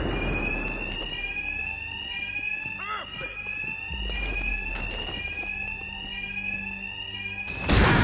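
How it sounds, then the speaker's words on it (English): An alarm rings continuously in a Batman video game, a loud repeating electronic tone running throughout amid game sound effects, impacts and brief bursts of activity. "Two-Face's thugs won't hear me over the alarm."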